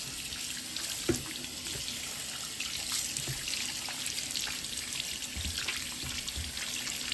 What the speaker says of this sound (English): Will run cold water.